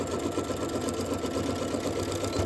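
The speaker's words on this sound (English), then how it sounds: "So I'm going to backstitch." Sewing machine backstitching through fabric on a small scrap-buster jar opener project, a steady close whirring motor with fast needle chatter running continuously throughout, no talking.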